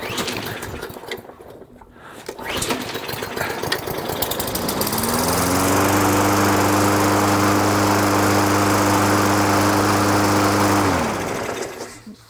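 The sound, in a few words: lawn mower engine starting and running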